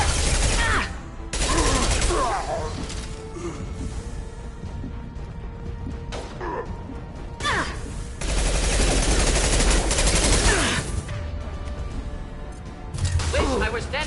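Heavy gunfire in the Mass Effect 2 video game, bursts of shots and impacts coming in clustered volleys over a dense battle background, with a voice talking intermittently.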